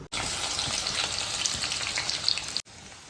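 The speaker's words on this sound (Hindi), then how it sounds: "ऑयल गर्म हो गया था तो मैंने इसमें आलू डाल दिए हैं।" Potatoes frying in hot oil for a home-style poha breakfast, a steady dense sizzle that holds evenly from start to finish with brief silent gaps at either edge, close and alone with no talk.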